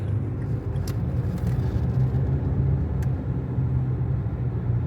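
A car creeps slowly through a turn on half clutch during a driving lesson. Inside the cabin the engine gives a steady, moderate low rumble, with a couple of faint clicks.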